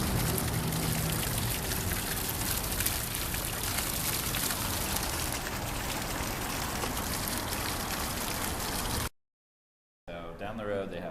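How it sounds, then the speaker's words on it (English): Hot spring water in Hot Springs, Arkansas pours out steadily in a loud, continuous splashing rush that fills the first nine seconds before a short gap of silence and a brief return. "it's hot water. Comes out really, really hot."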